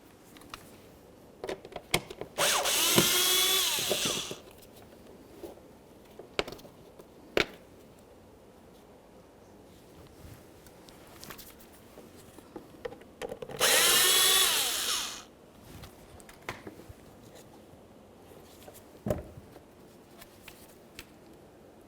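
Power drill backing out Phillips head screws from the front bumper cover of a 2003-2007 Honda Accord, two brief high whirring bursts between scattered clicks and handling knocks.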